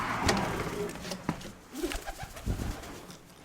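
Pigeons cooing softly in a loft, with scattered rustles and fluttering sounds; fairly quiet and close.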